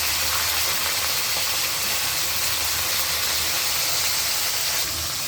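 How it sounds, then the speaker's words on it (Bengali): Hilsa fish heads fry in hot oil with a little salt, giving a steady, loud, unbroken sizzling hiss throughout. "এখন মাছের মাথাগুলো দিয়ে দেব, কারণ একটু ভাজবো"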